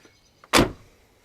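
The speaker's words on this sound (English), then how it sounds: "Doors still close nicely." A car door on a 1986 Cadillac Cimarron V-6 slams shut with a single solid thud, loud and close, after a faint click of the latch, with no voices.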